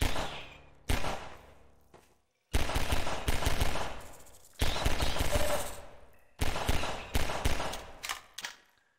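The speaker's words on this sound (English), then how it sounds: "Just shooting and missing wildly with the old pistol." Repeated pistol fire in Half-Life 2, the old pistol shooting wildly in fast bursts, four loud volleys of rapid shots separated by brief gaps, with no talk over them.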